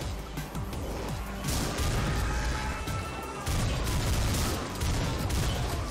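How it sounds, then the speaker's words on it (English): Assault rifle fire in a video game, a dense, loud, continuous barrage of rapid shots with crashing impacts filling the whole stretch, with no voices. "Especially with that assault rifle, I've got to be more careful with that"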